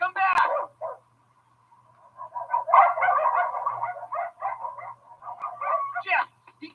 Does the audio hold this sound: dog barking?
yes